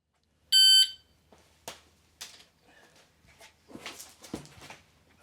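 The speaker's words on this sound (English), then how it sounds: "we'll see when the buzzer goes off" A shot timer buzzer starts a rifle stage at an NRL22 rimfire match, one sharp loud electronic beep near the start, followed by scattered rustling, clicks and movement sounds as the shooter gets into position.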